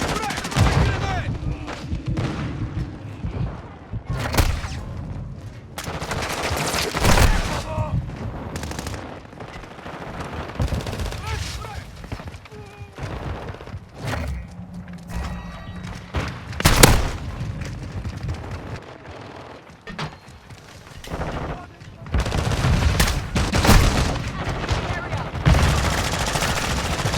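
Bursts of full-auto shotgun fire in a shooter video game, loud rapid blasts in clusters with gaps between, mixed with game voice callouts.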